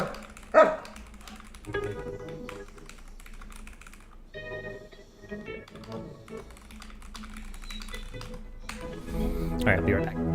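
A dog barks under steady clattering computer-keyboard typing, with a sharp yelp near the start and further barks half-masked by the tapping keys and nearby voices.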